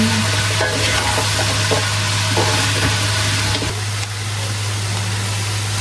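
Buffalo meat dinuguan stirred in a pot: soft scraping strokes and a steady frying hiss, with a constant low hum underneath, close and continuous.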